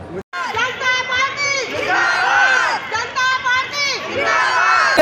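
Dense crowd at an Amit Shah election rally in Rohtash Nagar, Delhi, with loud overlapping voices, shouting and chanting close by, continuous and packed throughout.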